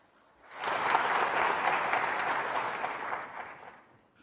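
At a book launch ceremony, an audience breaks into applause to welcome a lieutenant general to the podium; the clapping swells in after a half-second of quiet, holds full and steady, then fades at the end.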